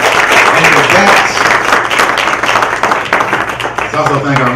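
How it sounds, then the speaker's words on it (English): Applause from the audience at a judicial candidate forum, a loud crowd clapping that fades slightly toward the end, with a voice speaking over it. "Let's give both of these candidates a round of applause."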